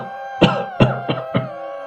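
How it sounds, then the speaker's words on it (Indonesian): A person coughs four times in a short, evenly spaced burst in a forest, each hack sharp and moderately loud against a quiet, faintly humming background with no talk. "dari kejauhan terdengar suara orang batuk"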